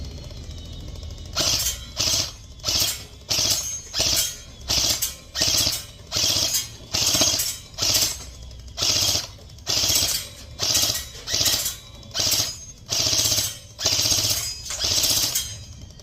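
An airsoft light machine gun fires in repeated short bursts, roughly a dozen rapid mechanical rattling volleys separated by brief pauses, loud and close with no talk.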